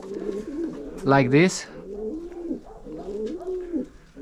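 Indian fantail pigeons in a loft coo steadily in low, rolling phrases, with a brighter rising call in the middle, close and continuous while someone speaks briefly.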